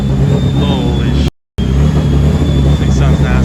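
A turbocharged Mazda RX-7 rotary engine runs hard on a dyno, a loud, dense, steady roar. A brief dropout cuts it near the middle before the engine noise resumes at the same level.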